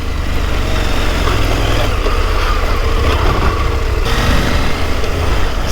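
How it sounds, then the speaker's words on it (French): A KTM 890 Adventure motorcycle engine rumbles steadily at low revs on an off-road track in Corsica, a deep continuous drone with wind noise on top and no talking. "la moto tape pas beaucoup dans les bas régimes."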